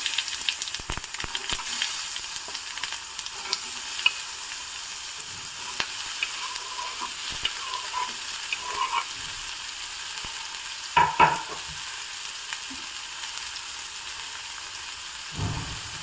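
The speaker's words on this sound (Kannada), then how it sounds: "ಕರಿಬೇವು ನೋಡಿ ಒಗ್ಗರಣೆ ಚಟಪಟ ಅಂತ ಸಿಡಿತಾ ಇರೋವಾಗಲೇ ನಾನಿಲ್ಲಿ ಸಣ್ಣದಾಗಿ ಹೆಚ್ಚಿರುವಂತಹ ಮೂರು ಈರುಳ್ಳಿಯನ್ನು ಹಾಕ್ತಾ ಇದ್ದೀನಿ" Curry leaves crackling in a hot oil tempering, followed by finely chopped onions frying; a steady, continuous sizzle with scattered pops and a few stirring clatters, close and without talk.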